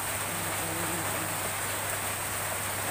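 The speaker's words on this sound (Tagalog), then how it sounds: "Umuulan na siya." Rain falling steadily over a rural fishpond and garden in the afternoon, a continuous hiss with a low hum running beneath it.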